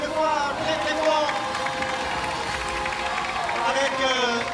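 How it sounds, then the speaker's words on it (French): A crowd applauds at the podium of a Honda CBR 500 R Cup motorcycle race in Albi, a steady dense patter of clapping with some cheering while someone talks loudly over it on a public address. "Allez, on les applaudit une nouvelle fois très très fort."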